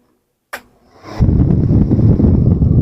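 A small DC fan runs off a battery: a sharp click, then a steady, loud rush of blown air that builds within a second and holds close to the microphone.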